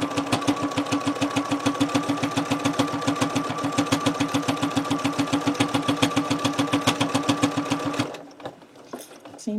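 A sewing machine stitches fabric in a fast, steady, loud mechanical rhythm of needle strokes for about eight seconds, then stops, leaving quiet handling noises.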